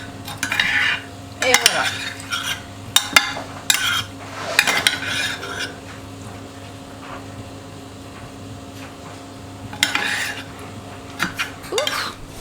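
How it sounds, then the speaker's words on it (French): Chopped garlic is stirred into potatoes in a pan with a utensil, giving irregular scraping and clinking strokes in bursts and pauses over a low kitchen hum, with a brief spoken remark. "Je vais venir le mélanger avec les pommes de terre."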